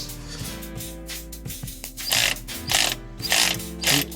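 Close metallic clicking of a ratchet tool turning on a bolt to extract the crankshaft seal of a BMW E90, a few slow clicks followed by four louder bursts of rapid ratcheting, with no talking.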